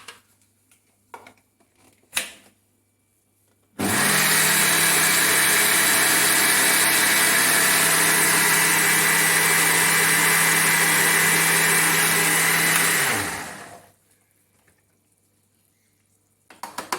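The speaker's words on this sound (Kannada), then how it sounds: "ಈಗ ಹುರಿದ ಕೊತ್ತಂಬರಿ, ಜೀರಿಗೆ ಮತ್ತು ಎಳ್ಳನ್ನು ಮಸಾಲೆಗೆ ಹಾಕಿ ರುಬ್ಬಿಕೊಳ್ಳೋಣ." A mixer grinder whirs steadily for about ten seconds as it grinds roasted coriander, cumin and sesame into a masala, starting abruptly and stopping cleanly with quiet room sound on either side.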